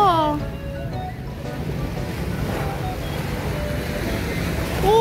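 Sea waves washing ashore at JBR beach in Dubai, a steady broad surf roar with wind buffeting the microphone, continuous throughout, with excited voices and bird-like squeals over the top.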